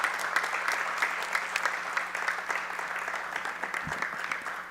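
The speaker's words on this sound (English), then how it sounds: "Let's give them another round of applause" An audience gives a round of applause at a school board event, a dense, steady wash of many hands clapping that fills the whole stretch with no one speaking over it.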